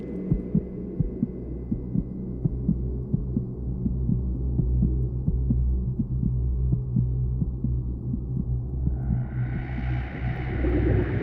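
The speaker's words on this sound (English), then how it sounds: "Are those my heartbeats that I'm hearing?" A diver's own heartbeat under Arctic sea ice, steady rhythmic thumps repeating over a low continuous hum, close and prominent, with bubbling breath noise rising near the end.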